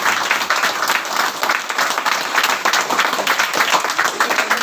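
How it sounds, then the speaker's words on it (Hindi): An audience at a Vestige business plan seminar breaks into loud applause, a busy, continuous patter of many hands clapping with slight surges in intensity, sustained from start to finish. "एक बार जोरदार तालियां।"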